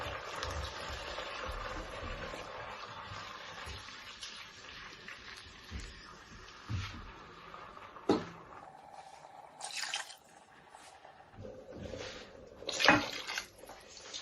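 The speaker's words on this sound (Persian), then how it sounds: "سه تا لیوان آب جوش من بهش اضافه کردم." Boiling water pouring and splashing into a pot of rice and onions, a continuous rushing flow that thins out, followed by a few drips and clinks.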